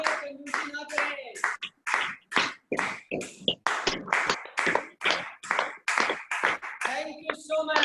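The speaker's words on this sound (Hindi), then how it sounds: "ताली बजाने में कंजूसी ना करें" Attendees at a motivational training event clap hard in a steady pulsing rhythm, loud rounds of clapping with brief gaps, sustained for several seconds.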